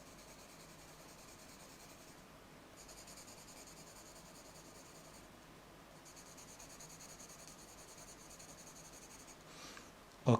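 Broad, steady pencil strokes rub softly across paper as tone is shaded in a sketch, a faint continuous scratching with no talk, ending in a single small tap.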